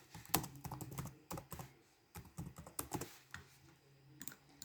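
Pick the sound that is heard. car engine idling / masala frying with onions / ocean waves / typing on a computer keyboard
typing on a computer keyboard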